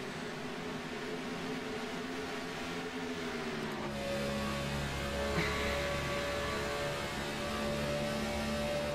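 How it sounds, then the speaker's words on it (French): A racing car engine in a racing video game drones steadily with tonal harmonics, its pitch dropping and shifting partway through as it slows for turn 2 on an oval track. "On entend comment le régime moteur baisse ici en dans le virage numéro 2."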